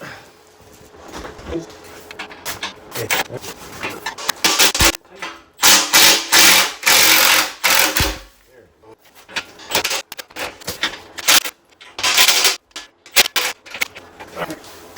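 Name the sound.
wrench loosening snow plow part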